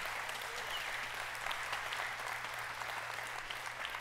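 A church congregation claps in praise during a worship service, a steady wash of many hands sustained throughout at moderate distance, with no distinct voices over it.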